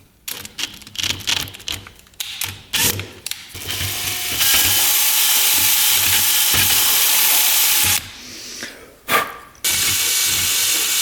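A power drill whines steadily for several seconds drilling out metal on a dirt bike, with short bursts and pauses before and after, loud and close, no voices.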